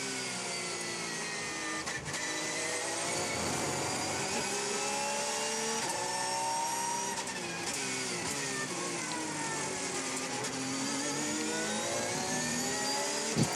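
Onboard sound from the number 92 car racing at the 2014 24 Hours of Le Mans, a loud, continuous engine note rising and falling through gear changes with steady wind and road roar throughout.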